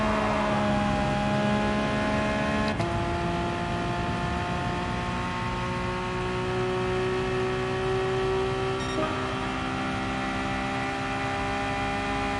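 Racing car engine in a PS4 racing game, apparently a Porsche, droning steadily at high throttle through a corner, with sustained harmonic whine shifting in pitch midway and no talk over it.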